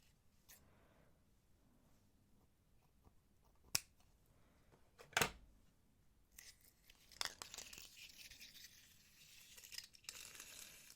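Macrame cord being cut: a few sharp, isolated snips and crisp rustles against a quiet background, followed by softer handling noise toward the end.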